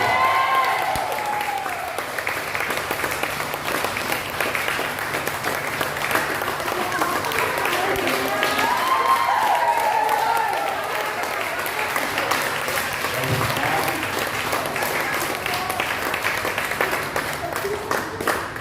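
A large group claps continuously at a steady, full volume, with some voices mixed into the dense wash of applause.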